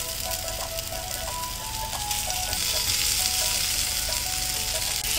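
Steady sizzling and crackling of boiled potatoes with turmeric frying in a pan over low flame, with a constant hiss and a faint repeating electronic tone in the background.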